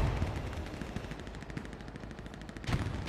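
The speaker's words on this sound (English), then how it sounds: "We just shot a German through his helmet." Rapid bursts of gunfire in the World War II shooter game Hell Let Loose, a dense rattle of shots that stays loud and steady throughout, with no voices over it.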